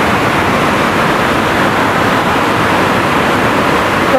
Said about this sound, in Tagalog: Tignan nyo naman ang agos.